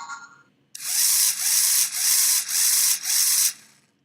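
A Lego Mindstorms motor winds down with its braking turned off, giving a loud whirring, ratchet-like mechanical buzz in four sustained pulses with brief dips between them, after a short faint sound at the start.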